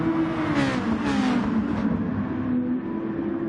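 A race car braking hard into turn 3 at the Red Bull Ring: a loud, close engine note drops in pitch as the driver slows, with no talk over it.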